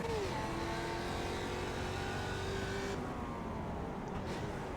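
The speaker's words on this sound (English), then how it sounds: "Overtake there on Robert and see if we can get by the Mazda here." Racing engines in the iRacing Production Car Challenge at Ledenon, a Mustang droning at steady high revs close by as it tries to pass a Mazda. The pitch shifts sharply partway through with a gear change.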